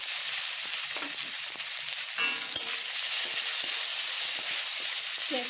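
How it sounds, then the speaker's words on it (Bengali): Chopped onions fry in hot oil with bay leaves, green chillies and five-spice seeds, giving a steady, close sizzle throughout with a few soft stirring scrapes and no talking. "পেঁয়াজটাকে একটু ভেজে নেব।"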